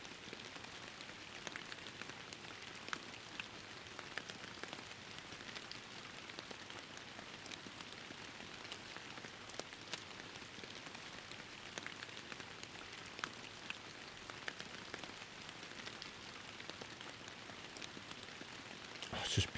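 Steady rain falls in the Fishing Planet fishing game, a soft, even patter on surfaces with scattered drops, quiet and continuous for the whole stretch with no voices.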